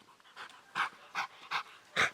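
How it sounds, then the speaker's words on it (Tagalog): Several dogs panting heavily after a session of fetch, with five or so rhythmic bursts of breathy panting close by and no talk. "hingal na hingal na"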